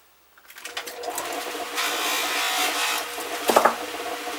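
Small pieces are screwed into a wooden dowel in a woodworking shop, producing a close, faint whirring and rubbing that builds after a quiet start, with a brief sharper burst near the end.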